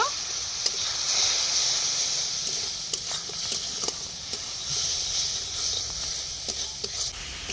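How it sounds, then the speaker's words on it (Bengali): Spice paste frying with a splash of water in a pan, a continuous close hiss and sizzle with scattered stirring clicks and scrapes underneath. "সামান্য একটু জল দিয়ে মশলাটা কষিয়ে নেব।"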